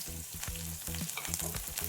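Oil crackles and sizzles steadily as onions and chilies fry, with soft stirring scrapes at regular intervals, close and continuous.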